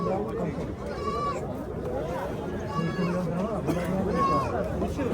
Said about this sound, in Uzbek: Echkilar ham rasa kiribdi.